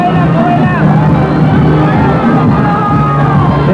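A huge euphoric crowd cheers and chants for Pope John Paul II during World Youth Day 1995, a dense, steady roar of massed voices with shouts rising out of it, unbroken and loud throughout.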